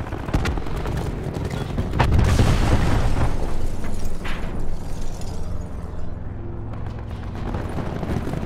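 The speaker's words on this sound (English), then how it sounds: "Cluster grenade going out." A cluster grenade detonates in the Black Ops video game, a loud low boom rolling into a dense burst of rumbling blasts that swell around the middle and then settle into a sustained, crackling game-noise bed.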